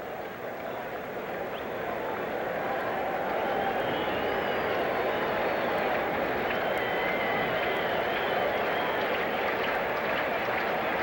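Baseball stadium crowd at a 1984 Reds–Mets game at Shea, a broad sustained roar of cheering and scattered clapping that builds slightly and holds, heard from a distance as a dense wash of many voices.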